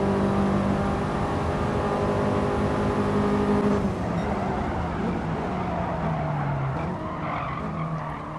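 A race car in a racing video game holds a steady high engine whine, then brakes hard into a corner as the pitch drops and tires skid and squeal, loud and continuous.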